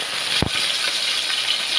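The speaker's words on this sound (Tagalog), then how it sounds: "Ayan, pakinggan natin ang kisi-kisi ng lana." Oil sizzles steadily in a frying pan, a close, even hiss broken by one brief bump from the pan, with no voices.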